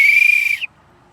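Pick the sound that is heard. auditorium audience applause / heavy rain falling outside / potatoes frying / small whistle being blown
small whistle being blown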